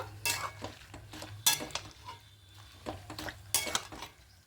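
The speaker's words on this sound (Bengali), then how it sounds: "এবার পালং শাকগুলো দিয়ে দেবো দিয়ে খুব ভালো করে মিশিয়ে নেব" Spinach stirred into boiling water in a pot, a few sharp clinks and scrapes of a utensil against the pot with softer swishing and bubbling between them, close and alone.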